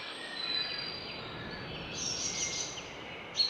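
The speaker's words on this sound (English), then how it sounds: "this is a lively forest indeed. Listen to all those birds." Birdsong fills a forest in the video game Farming Simulator 22, steady chirps and calls layered over a soft ambient bed, with a few brighter tweets standing out near the end.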